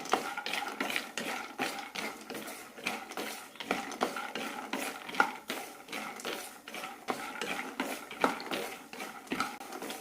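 Nuts roast in coconut oil in a pan, stirred with a utensil that makes steady rhythmic scraping and clicking strokes, close and fairly quiet, with no speech.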